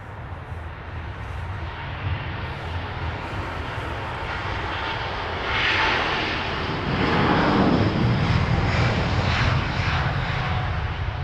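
Airbus A350 airliner at Heathrow, its engines giving a loud, sustained roaring rumble that swells and grows louder partway through as the jet passes.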